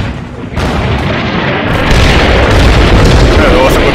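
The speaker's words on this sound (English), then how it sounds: "Let's bombard all this with 76mm HE" 76mm HE artillery shells bombard positions in Combat Mission Final Blitzkrieg, booming blasts that roll into a loud, rumbling wash of low explosions lasting several seconds, with a voice talking over them.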